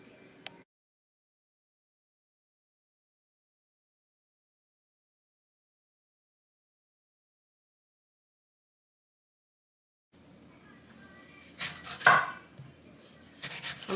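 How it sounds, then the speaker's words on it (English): A knife slicing apples into thin quarter-inch slices for dehydrating: a faint tap at the start, a long silence, then a short run of close chopping cuts and board knocks near the end, with no talking. "I'm cutting these about 1/4 of an inch thick"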